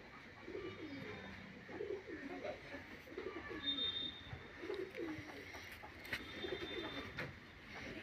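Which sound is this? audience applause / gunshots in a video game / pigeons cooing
pigeons cooing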